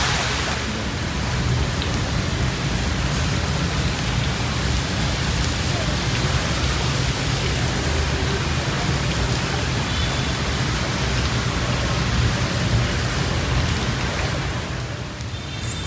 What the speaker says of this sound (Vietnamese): Mưa trắng trời luôn này.